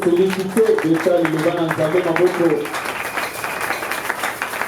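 Church congregation applauding and cheering, a loud dense clapping that runs under a preacher's voice for the first half, then continues more quietly on its own.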